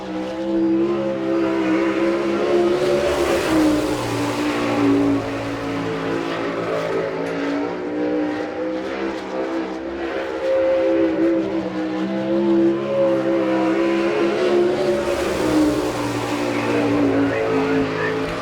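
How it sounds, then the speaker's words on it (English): Sprint cars lapping a dirt track at an All Star Circuit of Champions race in Chillicothe, Ohio, one car with a Gerte racing engine, their loud, droning engines rising and falling as they pass, with moments of tire scrub on the clay. "a Gertie racing engine"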